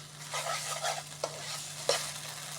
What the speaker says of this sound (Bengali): একটু একটু করে পাউডার দুধ দিয়ে নাড়াচাড়া করে দিতে হবে